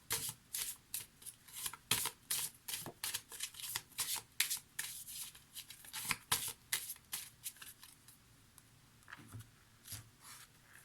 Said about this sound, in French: Allez, je vais terminer avec une carte oracle.